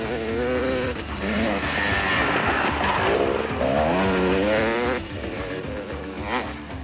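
Off-road racing motorcycles in the 1990 Roof of Africa rally, engines revving and wailing continuously with rising and falling pitch as they push hard over rough terrain, loud and near throughout.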